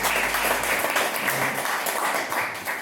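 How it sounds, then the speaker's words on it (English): Round of applause from the audience at a Black Future Month panel discussion, as representatives of Decarcerate KC come to the front, with a brief low hum at the start before dense clapping continues. "Give him a round of applause for Decarcerate KC."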